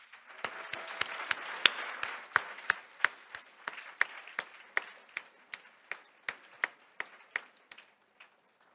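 Applause at a women's philanthropy fund breakfast thins out into a handful of sharp, evenly spaced claps that gradually slow and fade, fairly faint and with no talking over it.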